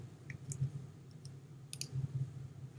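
A computer mouse clicks a few times while painting with a large brush in Photoshop, a couple of sharp close taps in two short bursts over a quiet low hum.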